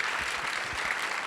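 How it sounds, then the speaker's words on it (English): Brief applause from a film festival panel audience honouring Oscar nominees, a soft, steady patter of many hands at moderate distance, heard alone. "So a round of applause for that."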